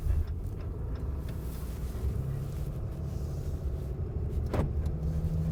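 A diesel pickup truck engine rumbles steadily at low idle-like revs with the accelerator barely pressed, close by, with a brief higher whine partway through and no talking.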